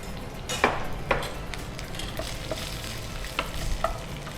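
Potatoes fry in a pan for chili garlic fries, giving a steady sizzle broken by several sharp clinks and scrapes of a spatula stirring at irregular intervals.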